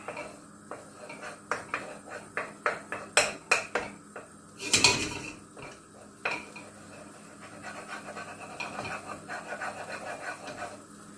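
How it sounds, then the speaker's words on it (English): Half the butter melts in a wok over medium heat, with a run of rhythmic metal clanks and clatters from a utensil against the pan, then a burst of scraping and a quieter, softer stretch. "In a frying pan, or in my case, a wok, because I love using my wok, I'm going to melt over medium heat half of the butter."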